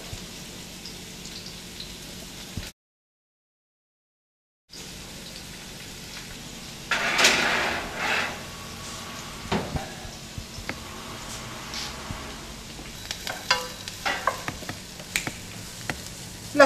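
Onion fries in a pan with a soft, steady sizzle. Scattered clicks and scrapes from stirring come through, with a louder burst of crackling partway along.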